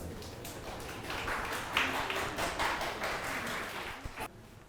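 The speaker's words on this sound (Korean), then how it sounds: "박수 부탁드립니다" Audience applause welcoming speakers at a forum in Seongsu: faint, moderate clapping from a small crowd, steady for a few seconds before fading out.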